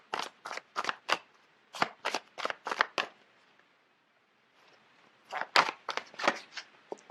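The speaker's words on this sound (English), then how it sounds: "let me just pull out a card" A deck of tarot cards is shuffled by hand in quick, crisp riffling bursts, a run of sharp close snaps, then a brief quiet pause before another flurry of shuffling and a card being drawn, no talking.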